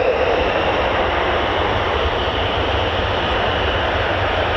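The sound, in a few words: fighter jet taxiing at RAF Lakenheath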